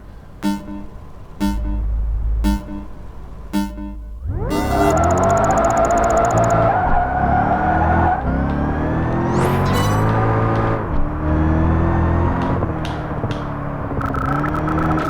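A race car engine in Project Gotham Racing 4 starts with short beeping tones, then roars up loud and steady, its pitch climbing and dropping through gear shifts, close and alone.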